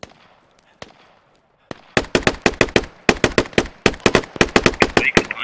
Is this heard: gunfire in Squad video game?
yes